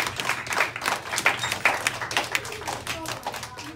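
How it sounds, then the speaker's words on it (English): Classroom applause: a short burst of brisk, uneven hand claps from a group of students, mixed with voices talking over it. "how about a big round of applause?"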